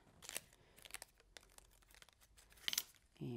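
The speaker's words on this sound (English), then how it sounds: "Take our tape off." Tape peeled away from a paper snowflake being crafted, a few faint, close crackly tearing bursts separated by quiet gaps, ending with a louder rustle.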